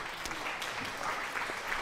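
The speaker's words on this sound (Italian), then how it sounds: "mo ti arriva l'applauso" Applause sound effect triggered during a Farming Simulator 22 stream: a steady, even wash of crowd clapping at low to moderate level, continuous for about two seconds with no pauses.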